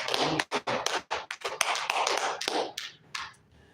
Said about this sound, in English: make some noise for the big hand clap